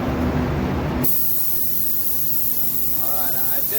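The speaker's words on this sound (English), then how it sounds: "It is a base coat gun, but I'm going to shoot clear out of it" A base coat spray gun sprays clear coat onto a car door jamb at about 23 PSI, a steady close hiss that carries on without a break after a short louder burst at the start.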